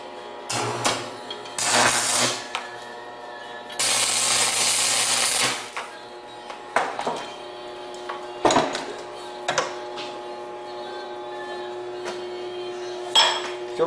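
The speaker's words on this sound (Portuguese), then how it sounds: "Então vou dar uma solda aqui agora." A washer is spot welded onto a homemade dumbbell bar, giving a crackling, buzzing burst of about two seconds, surrounded by metallic clinks, taps and clanks of handling the steel parts.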